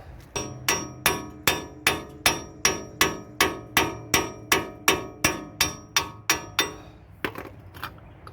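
Repeated heavy hammer blows on the wheel bearing assembly of a 2013 Ford F150, about twenty sharp metallic strikes at a steady quick rhythm, loud and close, then a few looser clanks as it breaks free.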